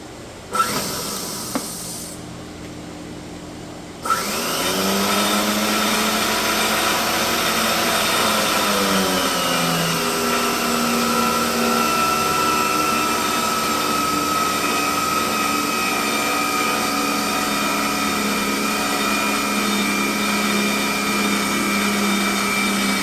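Collins Classic 22A production pipe threading machine threading the end of a pipe, a steady loud mechanical whine and hum with tonal bands that starts abruptly after a few seconds of quiet and runs continuously without talk.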